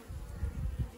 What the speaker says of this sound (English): There's bees from the outside edge